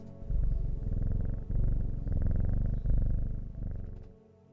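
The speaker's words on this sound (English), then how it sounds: "a loud purr" A cat purrs loudly and steadily in the game Strange Horticulture, a close, continuous low rumble in rhythmic waves that fades out at the end.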